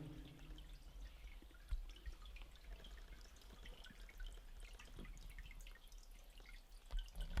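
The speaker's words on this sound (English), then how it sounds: "There you go, bit of the old tunnel drainage there." Water drips from old drainage inside a disused railway tunnel on the Malton to Driffield line, scattered irregular drops landing faintly over a low steady hiss and rumble, with no talk.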